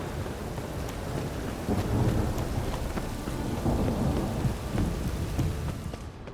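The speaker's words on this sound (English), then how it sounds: "The storm, damn it." Thunderstorm in the video game The Witcher 3: Wild Hunt, with steady heavy rain pattering on surfaces and low thunder rolling throughout, loud and continuous with no talking.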